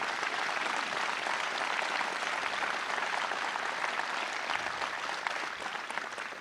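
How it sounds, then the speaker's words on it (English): A large audience at a political event in Pennsylvania applauds law enforcement officers, with dense, steady clapping that fills the whole stretch at a constant loud level before easing slightly at the end. "Let's give all of our law enforcement officers a round of applause."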